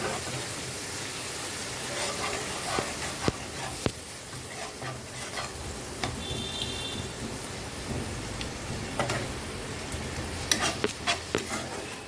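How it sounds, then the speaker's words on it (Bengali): Ground tomato paste is sautéed in a pan, giving a continuous close sizzle with scattered sharp clicks and scrapes from stirring. There is no talking. "একটা টমেটো বেটে রেখেছি, টমেটোটা দিয়ে কষিয়ে নেব ভালো করে।"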